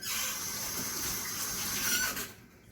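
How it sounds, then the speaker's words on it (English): Running tap water splashing over a hand to rinse off sugar in a home kitchen while making pear preserves, a steady close hiss and gush that stops abruptly near the end. "Rinse that sugar off my hand."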